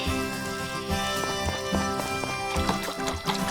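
In the farming game Story of Seasons: Friends of Mineral Town, a horse's hooves clip-clop in a steady rhythm over game music, with no talking.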